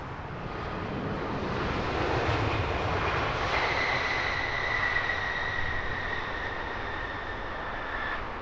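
A British Airways airliner at Heathrow Airport roars steadily throughout, with a rising engine whine that holds from mid-clip to the end under broad rumbling noise; no voices.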